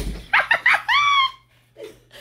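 A human voice imitates a dog barking: three quick, loud woofs followed by one longer drawn-out bark, close to the mic, then quieter murmuring.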